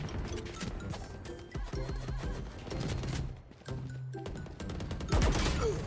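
Rapid bursts of gunfire from a new ORA weapon skin in Valorant, loud clattering volleys with short pauses between them and background game sounds.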